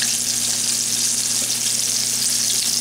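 Chicken fries in hot oil in a skillet, a loud, steady sizzling hiss close by that holds constant throughout with no talking.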